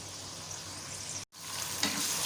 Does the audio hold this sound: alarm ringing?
no